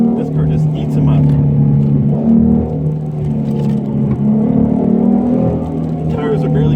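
A modified 2016 Ford Mustang S550 with the 3.7 V6 engine drives through tight corners, its engine humming steadily with rising and falling pitch while a person talks over it throughout.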